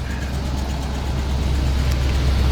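A 1985 Holiday Rambler RV engine runs at a steady idle, a low, even rumble close by and unchanging throughout, with no talk.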